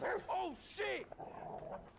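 A dog barks and yelps in GTA V, two sharp barks close and loud followed by lower whining, with a man's brief exclamation over it.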